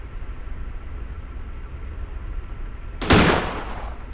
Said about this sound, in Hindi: पटाखा फोड़ दिया भाई मैंने यहाँ पे,